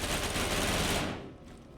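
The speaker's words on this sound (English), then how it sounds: "Someone was shooting at me a moment ago." Rapid automatic gunfire in the space game Star Citizen rattles as a dense, continuous burst for about a second, then cuts off into a fading tail.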